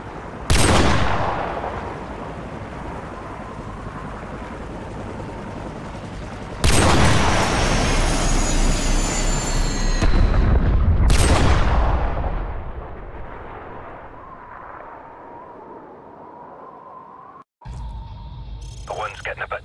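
Sniper rifle shots in Call of Duty 4: Modern Warfare, three loud, sharp cracks spaced several seconds apart, each trailing into a long rumbling echo, with a voice speaking between shots.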